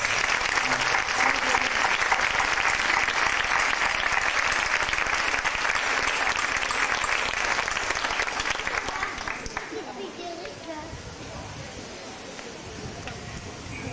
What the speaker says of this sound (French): On peut encore applaudir très fort.